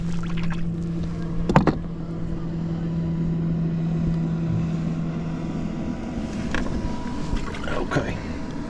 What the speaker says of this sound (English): that is a fast, deep V boat right there